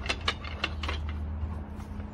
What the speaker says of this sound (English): So you'll pull out your bamboo top here